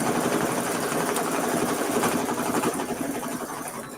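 An embroidery machine runs steadily on a quilting project, giving a continuous close mechanical stitching hum with a rapid rattling texture that eases slightly near the end.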